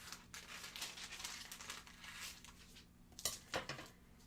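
A thin sheet of craft foil is cut in half by hand, giving soft crinkling and rustling through the whole stretch, with a couple of sharper crackles near the end. The sound is close and quiet, with no talking.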